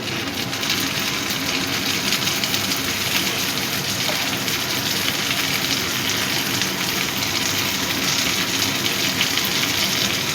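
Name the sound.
tomato added to hot oil with fried onion, sizzling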